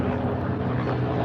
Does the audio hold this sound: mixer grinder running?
no